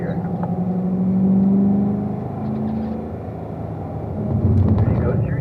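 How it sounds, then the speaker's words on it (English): A Corvette on the Spring Mountain race track rumbles with a steady engine drone that swells and eases as it downshifts to third gear, the note lifting again toward the end, with speech heard faintly over the engine. "in between turns 4 and 5 up here, we're going to be doing a downshift to third gear"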